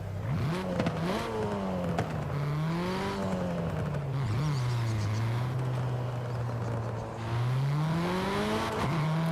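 Audi TTS with an automatic gearbox accelerating in Forza Horizon 5, the engine note climbing steadily through fast upshifts with brief dips between gears, loud and close, with faint tire squeal.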